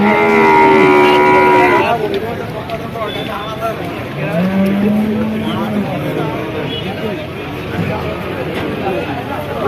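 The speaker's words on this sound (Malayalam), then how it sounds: "ചില പൈക്കളുണ്ട് കാളുണ്ട്" Cattle at a market lowing loudly: a long, clear moo near the start, then a second deeper bellow mid-clip, with murmuring crowd chatter and background noise throughout.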